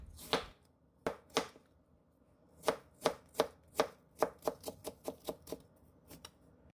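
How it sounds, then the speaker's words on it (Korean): A knife julienning pear on a cutting board, with crisp, distinct chops at first spaced apart and then settling into a quicker, regular rhythm, close and fairly quiet. "배를 손질해서 채 썰어 놓습니다."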